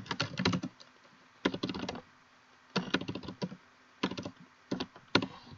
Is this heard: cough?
no